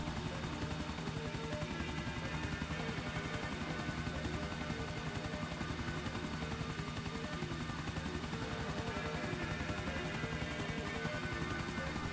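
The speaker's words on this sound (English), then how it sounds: "You're going to try and land the helicopter on the top of the refinery" A helicopter flies in the video game GTA 4 with a steady, continuous rotor drone and engine buzz, unchanging in loudness throughout, with no voices.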